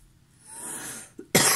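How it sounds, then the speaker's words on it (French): A woman coughs close up in a quiet room: a long breathy rasp, a short catch, then a sharp loud cough burst. "Excusez-moi, je tousse beaucoup en ce moment avec la chaleur."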